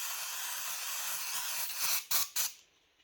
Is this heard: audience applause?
no